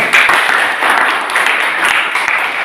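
A classroom group of high school students applauds after a discussion presentation, brisk and fairly loud clapping from a modest crowd, even and continuous for a few seconds.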